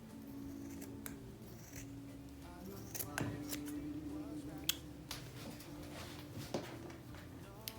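Scissors cut through folded fabric layers for a boho tree skirt, giving a few crisp snips and rustles at close range under soft background music.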